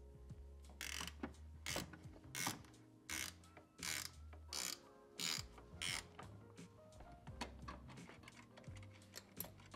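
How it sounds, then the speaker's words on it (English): Ratchet wrench removing a nut during a splash guard install on a 2022 GR86, with sharp, repeated clicking bursts in an irregular rhythm, close and clear over quiet background. "Now I have my ratchetable wrench."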